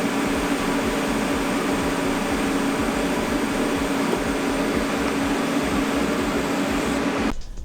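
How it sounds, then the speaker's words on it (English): Welding on a homemade fitting for a triple-turbo Honda setup produces a continuous dense crackling buzz with rapid low pulses that runs steadily for several seconds, then cuts off abruptly near the end, with no talk. "And now we can just weld that."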